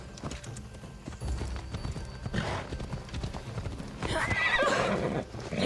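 A horse in Assassin's Creed Odyssey clip-clops along with close, loud hoofbeats, then lets out a clear neigh toward the end.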